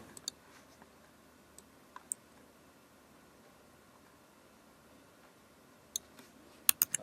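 Sparse, faint mouse clicks during design editing in Adobe XD, a few isolated clicks early on and a quick cluster near the end over quiet background hiss.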